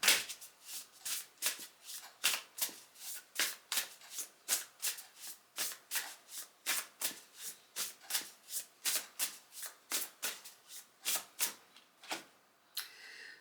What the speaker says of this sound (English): We'll take one more card from the Shaman's Dream.